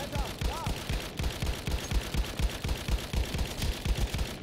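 Battlefield 1 gunfire in a match featuring attack planes and a dreadnought, with rapid steady bursts of automatic shots firing in a continuous, close rhythm under a faint voice.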